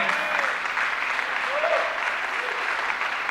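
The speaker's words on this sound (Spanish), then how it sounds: "toma un aplauso ahí" Steady applause from a church congregation during a pastor's sermon, a dense even wash of clapping sustained throughout with a faint voice surfacing briefly in the middle.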